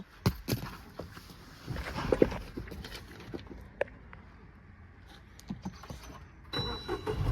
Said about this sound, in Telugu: ఇగ్నిషన్ ఆన్ చేసి ఇంజన్ అయితే స్టార్ట్ చేస్తా